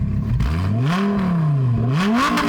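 A Lamborghini Gallardo engine revs up and down twice through a custom full-titanium exhaust, rising to a raspy roar then dropping back, loud and close.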